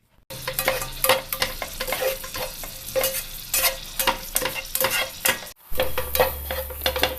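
Grated coconut roasts and is stirred in a pan for a Kerala koorka theeyal, with a steady sizzle under repeated scraping strokes of the spoon, close and fairly loud, with a brief break near the end.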